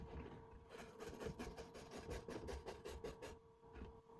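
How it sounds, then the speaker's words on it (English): A small brush scrubs over the burnt grooves of fractal-burned maple and aspen wood, giving a steady run of quick, dry bristle rasps close by, with short pauses and no talk. "I use a little brush to clean them out"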